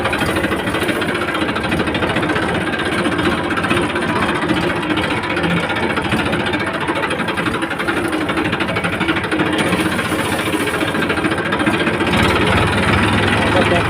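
A farm tractor's engine runs steadily and loudly throughout, a dense continuous rumble with a knocking, clattering texture, staying close and constant from start to finish.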